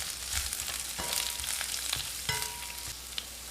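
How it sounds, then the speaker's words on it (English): Purple onions and chopped garlic sautéing in a pan, a steady close hiss of frying with occasional stirring scrapes and clicks, no talking. "Saute our purple onions."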